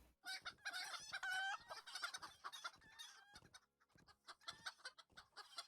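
Free-range chickens in the online game LOTRO, clucking busily and squawking with crow-like calls, several birds at once, close and lively with no talk over them.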